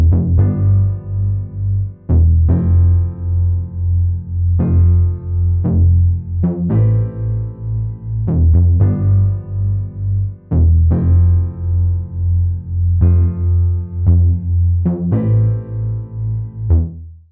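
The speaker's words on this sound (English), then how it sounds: "the bass from Trillion sounds like this" Trillion bass patch played in FL Studio for an Amapiano beat: deep, sustained synth bass notes in a looping groove with sharp attacks, loud and alone with no voices.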